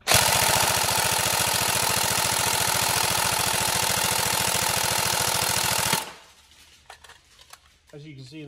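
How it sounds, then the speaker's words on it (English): An upgraded Tokyo Marui SCAR-L NGRS airsoft electric gun fires a long full-auto burst at about 14 rounds per second, a loud rapid mechanical buzz lasting about six seconds, then stopping abruptly into quiet handling noise and brief talk. "it's still motoring at 14 rounds a second"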